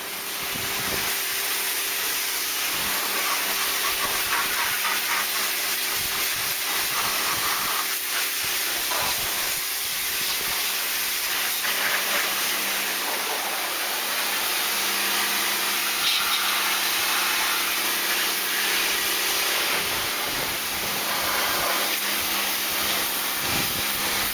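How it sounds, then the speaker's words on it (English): A power washer blasts degreaser off the bonnet of a Toyota Carina, a steady loud hiss of spray that runs without pause, shifting slightly in tone as the jet moves across the panel. "I'm going to power wash that off"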